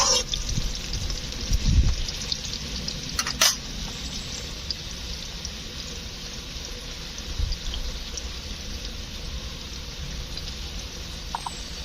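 Potatoes frying in a pan with papaya, turmeric and salt, a steady soft sizzle with a couple of brief scraping stirs, close and continuous with no talk.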